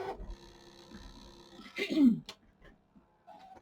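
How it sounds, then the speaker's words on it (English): A short, throaty clearing of the throat rises midway through, close up, amid a faint whir of a Scan N Cut cutting machine and low background noise. "I keep clearing my throat"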